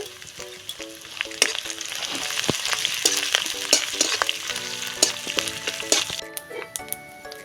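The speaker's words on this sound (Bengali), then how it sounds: "এইখানে আমি এই কেরি পাতাগুলো দিয়ে দিচ্ছি তেলের মধ্যে" Curry leaves crackle and sizzle in hot oil for a tarka, a loud, busy fry with sharp pops and scraping stirs running throughout, no voices.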